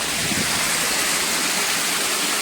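Srikona waterfall pouring over rocks, a steady, loud broadband rush of falling water that fills the whole moment without a break.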